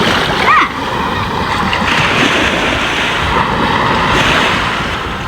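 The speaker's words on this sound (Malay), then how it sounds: "kuat lah angin" Strong wind roars across the microphone over crashing surf and splashing waves at a beach, loud and continuous throughout.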